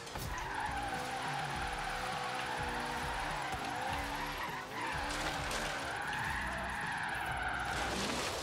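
A Ford Mustang drifts in Forza Horizon 3, its tires squealing continuously over a steady, strained engine drone for several seconds, loud and unbroken with only a momentary dip midway.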